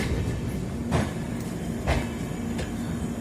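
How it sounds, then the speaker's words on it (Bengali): Passenger train rolling between stations on the Howrah to Kota route, a steady loud rumble with a few periodic rhythmic clunks from the wheels. "আর ট্রেন এখন সাসারাম জংশন স্টেশন ক্রস করছে"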